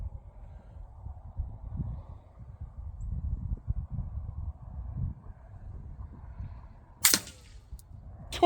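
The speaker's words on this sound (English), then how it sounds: "The biggest noise you heard there was the round hitting the metal backstop" A suppressed subsonic .308 round strikes a metal backstop behind a paper target. It gives one sharp, near crack-like impact over a low, windy outdoor rumble, followed by a brief second tap.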